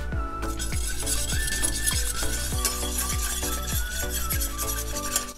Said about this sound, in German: Da werden wir jetzt uns die Stärke dazugeben und die einfach gerade verrühren.